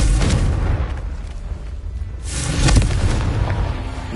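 Repeated Confringo explosion spells in Hogwarts Legacy on PS5: loud booming blasts with bursts around the start and near the end over a sustained rumbling roar, no talking.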